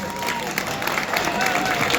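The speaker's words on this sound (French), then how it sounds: "applaudissements s'il vous plaît" An audience applauding at an evening festival competition, dense steady clapping across the whole stretch with a voice talking over it.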